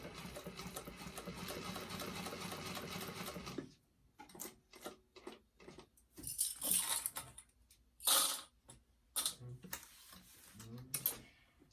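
A sewing machine stitches a bag, pausing with the needle down to pivot at corners; a steady dense mechanical whir for several seconds, then stops, followed by intermittent handling clatter and short bursts.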